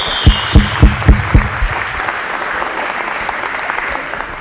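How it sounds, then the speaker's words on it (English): Audience applause at a farewell event, opening with about five loud, evenly spaced thumps and then settling into steady, dense clapping from a large crowd that continues to the end. "let's give a big round of applause"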